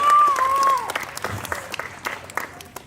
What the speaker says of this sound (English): a round of applause to all of those who helped donate items